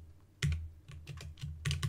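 Keys clacking on a computer keyboard as a terminal command is typed, a few quick irregular keystrokes with short pauses between them, close and fairly quiet with no talking.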